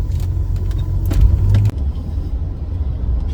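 A Jaguar Series 3 V12 idles roughly with a steady, low, uneven rumble close by, with a brief louder thump midway, then continues on its own.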